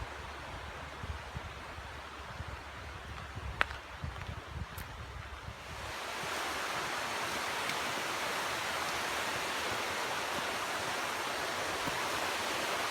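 Steady rushing water of Laurel Creek in the Appalachian mountains of Tennessee, a constant broadband wash that swells louder about halfway through and holds, with no voices.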